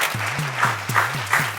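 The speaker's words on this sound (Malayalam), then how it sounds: "എല്ലാവരും കൈയടിക്കും." An audience claps together on a comedy show, a steady round of applause with rhythmic pulses over a low droning hum, moderately loud and close.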